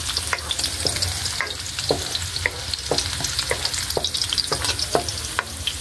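Onion and ginger fry in hot oil, a steady sizzle broken by repeated scraping and clicking strokes of a utensil stirring the pan. The sound is close, with no talking.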